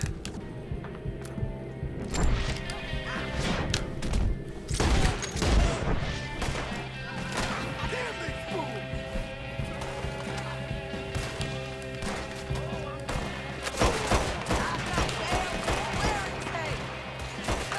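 Rapid bursts of Mauser pistol fire during a Red Dead Redemption II shootout, sharp cracks and thuds scattered across the clip, heaviest around the middle and near the end, under game music and someone talking.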